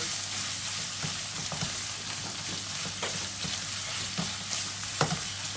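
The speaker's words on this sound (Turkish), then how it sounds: "Şimdi salçayı da iyice kavuracağız ki midemizde yanına ekşime yapmasın diye." A spoonful of tomato paste is sautéed and stirred in a pan for a cauliflower dish, producing a steady sizzle with regular scraping strokes of a spoon, one sharper clack near the end.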